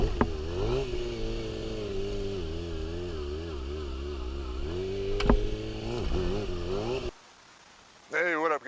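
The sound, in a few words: motorcycle riding away after a wheelie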